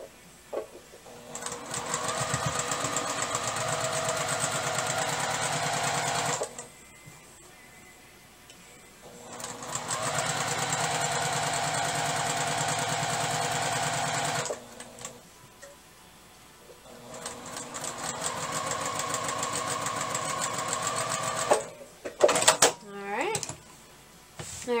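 A sewing machine runs in three steady stretches stitching a seam on a t-shirt quilt, with fast regular needle ticking, short pauses between runs and some handling noise near the end; a voice speaks at times.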